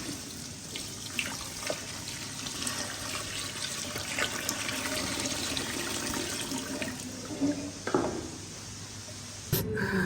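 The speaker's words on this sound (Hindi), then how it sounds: "वो 2 से 3 जग पानी के ऐड करेंगे।" Water is poured from a jug into a pot of cumin rice with tomatoes, a steady splashing stream that runs for several seconds before ending in a brief clatter.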